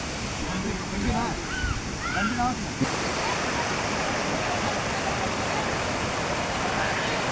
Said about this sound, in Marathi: हा इथे धबधबा हा खाली पडतो इथून तिथून खाली पडतो आहे